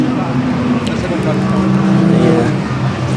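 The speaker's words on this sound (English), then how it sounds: "Brad Kaler's Audi, you can see is heading into the pit lane as well." An Audi race car rumbles steadily into the pit lane during a club endurance race at Silverstone, a constant droning engine note heard under continuous commentary.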